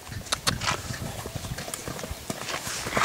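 Hooves of a Lusitano mare clip-clop on the ground at a stud farm, a quick run of close, crisp hoof strikes in an irregular walking rhythm with no voices.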